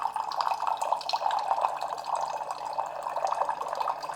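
Water pours from a Waterdrop A1 countertop reverse osmosis filter into a cup, a steady close trickle and splash running evenly throughout without pause.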